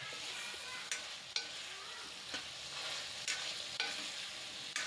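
Guava pieces sauté in a spiced pan for a Gujarati guava curry, with a steady sizzle broken by several soft scrapes of stirring.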